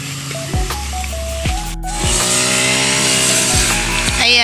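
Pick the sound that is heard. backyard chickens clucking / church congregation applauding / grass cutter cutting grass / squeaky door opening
grass cutter cutting grass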